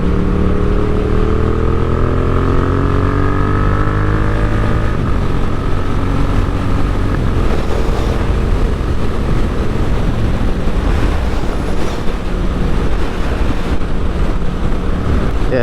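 Heavy wind buffets a rider on a Yamaha MT07 motorcycle at speed on the M6 motorway, a loud, constant roar that nearly buries the engine drone rising through the gears early on.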